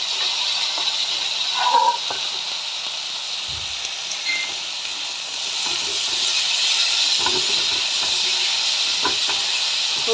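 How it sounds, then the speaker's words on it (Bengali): Mixed vegetables frying in a pan give off a steady, fairly loud hiss and sizzle throughout, with a few faint stirring knocks and no talking. "সবজিগুলো ভালো করে ভেজে নিতে হবে।"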